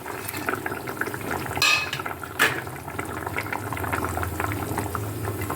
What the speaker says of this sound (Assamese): আমাৰ তৰকাৰীখন ধুনীয়াকৈ উতলি গৈছে আৰু গোটাও হৈ গৈছে